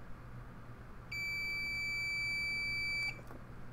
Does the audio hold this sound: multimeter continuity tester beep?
yes